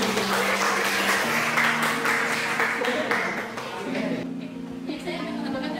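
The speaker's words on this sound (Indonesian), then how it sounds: "kita kasih tepuk tangan dulu." Classroom applause in a teaching session, with a fairly dense burst of clapping that thins out partway through as voices and laughter rise beneath it.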